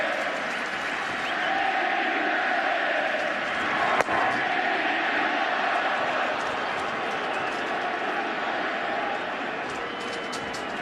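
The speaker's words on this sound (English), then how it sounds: "Getting serenaded by this crowd." At Yankee Stadium during Game 6 of the 2009 World Series, the crowd sustains a loud, continuous roar of chanting aimed at the pitcher, broken once by a single sharp thump.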